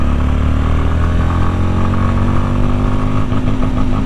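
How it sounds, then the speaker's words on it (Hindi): A 2024 Honda CB 350 motorcycle's exhaust note while riding: a loud, steady engine drone close by that holds throughout and swells into a brief rev near the end. "सबसे अच्छी चीज़ जो मुझे अभी तक लगी है वो है इसका एग्जॉस्ट नोट"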